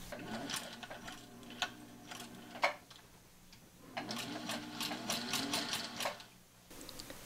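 Domestic sewing machine stitching seams on a fabric utensil roll: two bursts of rapid, rhythmic mechanical stitching with a short pause between them, close and fairly quiet.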